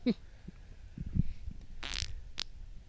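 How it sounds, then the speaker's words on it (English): A short, low rumbling fart comes through close to a podcast microphone, faint and brief among quiet room noise, followed by a couple of small rustles and clicks. "Don't fart right in your microphone."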